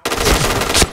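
Rapid automatic gunfire from the online shooter game Point Blank during a competitive clan match, a loud, dense burst of shots lasting about a second.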